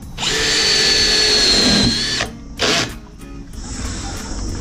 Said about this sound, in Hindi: इसी ड्रिल मशीन से हम स्क्रू भी मारेंगे, इसी ड्रिल मशीन से हम होल भी डालेंगे।